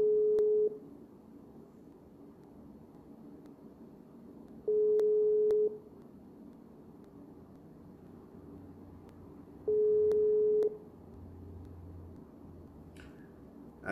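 Telephone call tone heard while dialling, three steady beeps about five seconds apart, each lasting roughly a second, with quiet line hiss and faint low hum in between.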